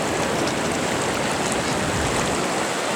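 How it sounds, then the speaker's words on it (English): A normally small mountain creek, swollen by a flood near Boulder, Colorado, rushes in a loud, dense, unbroken roar of churning water up close, with no voices. "this creek comes right out of the mountains. This is a really small creek normally, but it's not today."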